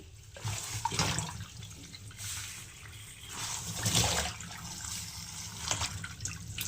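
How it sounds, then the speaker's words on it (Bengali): Pumpkin leaves being rinsed several times in water, with repeated swishing and splashing surges and a steady trickling underneath, close and moderately loud. "তো এটাকে একটু খুব ভালো করে জলে কয়েকবার ধুয়ে নেবো"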